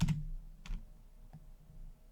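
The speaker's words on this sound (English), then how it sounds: "We'll do the less than key on the keyboard." A single computer keyboard key pressed while entering a spreadsheet formula, giving a sharp click at the start followed by a couple of fainter taps in a quiet room.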